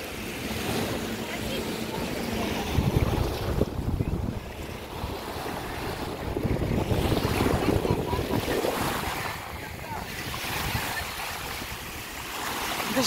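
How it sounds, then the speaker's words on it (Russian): Sea waves wash onto a white sand beach in Tunisia, a rolling surge of surf that swells and recedes, partly buffeted by wind noise on the microphone. "Хочется звук моря. Шум волны."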